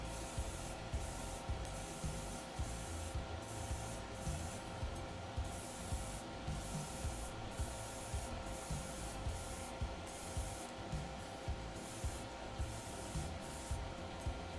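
Spray coating a Master Grade GM 2.0 model robot kit produces a steady, hissing aerosol spray with faint regular ticks, continuous and close throughout with no talking.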